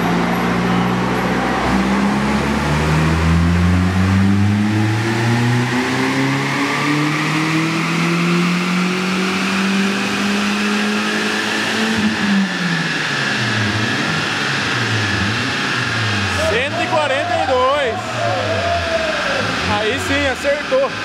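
A Kadett 2.0 turbo car engine revs hard at a dyno day, pitch climbing steadily for about twelve seconds, then dropping and cycling through shorter revs near the end, with people talking over it.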